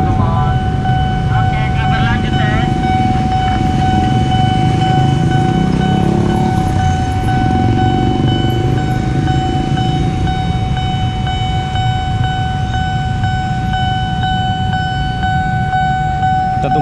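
An airport train rumbles steadily nearby with a constant low roar and a persistent high tone, and voices talk briefly over it early on.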